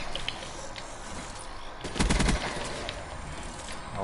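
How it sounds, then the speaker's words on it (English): A short automatic burst of Black Ops 3 gunfire rattles out mid-match, a quick run of close shots rising briefly above a constant hiss of in-game background noise. "I'm pretty sure Rakeem is just shooting."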